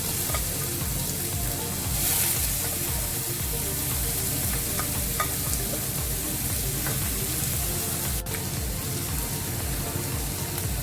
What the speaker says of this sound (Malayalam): നമുക്ക് കാമ്പും നമ്മുടെ വറവും എല്ലാം കൂടി നന്നായി ഒന്ന് മിക്സ് ചെയ്യാം